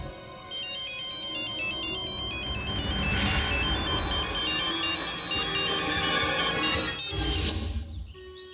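A melodic phone ringtone plays loudly and continuously, its repeating electronic tune filling the room before cutting off near the end.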